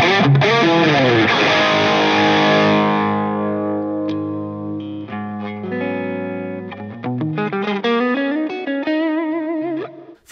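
Distorted electric guitar through a Formula B 80 Master pedal rings out a big sustained chord that slowly decays, then turns to quicker picked notes and stabs, loud and alone.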